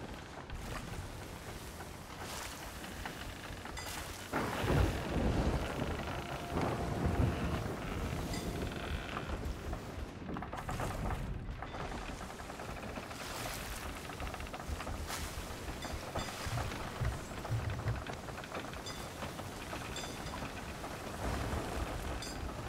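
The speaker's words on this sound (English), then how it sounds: "We have to travel through the storm to get to where we need to go." A thunderstorm in Sea of Thieves pours steady rain around a sailing ship, with low thunder rumbles swelling now and then under the constant wash of rain. The storm plays on its own, with no voices.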